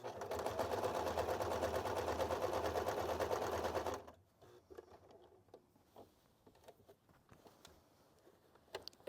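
A sewing machine stitches through bulky denim on upcycled barrel leg jeans, running in a loud, steady, rapid burst for about four seconds before stopping, followed by quiet handling noises.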